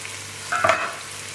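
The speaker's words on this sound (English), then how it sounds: "Now that we can see the apples cooking nicely" Sliced apples frying in a pan for a sweet Norman apple omelette, a soft steady sizzle with a brief stir of a spoon in the middle, close and quiet.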